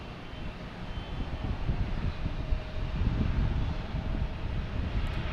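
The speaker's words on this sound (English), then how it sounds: "Speedbird, British Airways. Flight 212 heading back to London Heathrow." A British Airways Airbus A380 on flight 212 to London Heathrow at Boston Logan Airport produces a steady, heavy jet engine roar that swells slightly as it passes, with wind buffeting the microphone and no talking.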